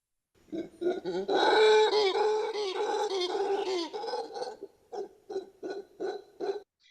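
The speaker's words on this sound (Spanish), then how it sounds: "Aquí va el mono aullador de manto." A loud, roaring mantled howler monkey call: a long sustained guttural roar followed by a series of shorter rhythmic grunting bursts, with no talking.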